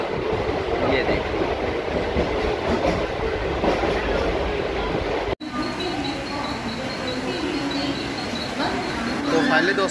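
A Mumbai local train running, with a steady rumbling roll and rhythmic clickety-clack of the wheels, loud and close from inside the moving train, a brief dropout midway, and voices underneath.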